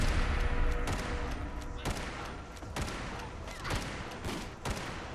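Trail Carbine gunshots in the video game Fallout 4, a rapid run of sharp, loud cracks fired in quick succession at an irregular pace, with no talk over them.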